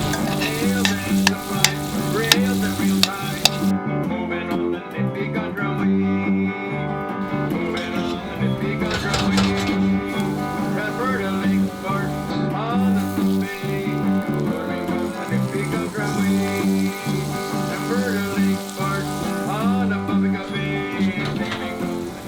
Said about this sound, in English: our fish is cooked, pan fried